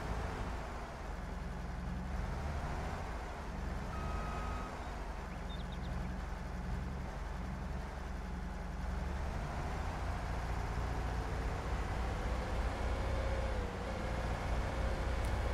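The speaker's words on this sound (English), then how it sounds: "So let's hop in our new swather. Hook up the header and let's go mow." Swather in a farming video game, running as a steady low engine drone with faint intermittent reversing beeps above it, loud and continuous with no talk.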